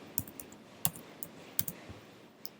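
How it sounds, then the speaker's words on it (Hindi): Scattered clicks of typing on a laptop or desktop computer keyboard, close and fairly quiet, with irregular keystrokes and short pauses between them. "इनमें हम कुछ भी टाइपिंग कर सकते हैं"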